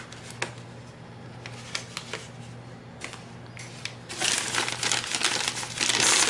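Thin oven-baked, tea-dyed paper sheets crinkle and rustle up close, starting with scattered soft crackles and swelling into a louder, dense crinkling over the last couple of seconds.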